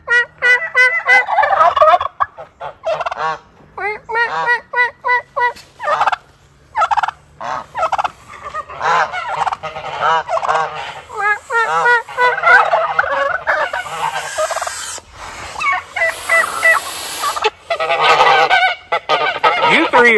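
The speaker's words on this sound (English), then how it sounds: "Think I can get him to gobble again?" A tom turkey gobbles loudly and close up, giving repeated rapid gobbling bursts and rattling calls with short pauses over about twenty seconds.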